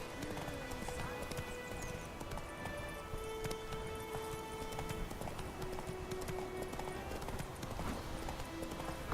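A horse galloping in The Witcher 3: Wild Hunt, steady rhythmic clip-clop hoofbeats running throughout under soft game music, with occasional brief talk.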